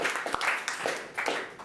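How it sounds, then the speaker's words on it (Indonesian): An audience claps for a youth talk on frugal living, uneven applause of moderate loudness with scattered sharper claps and some voices mixed in. "Kita kasih tepuk tangan."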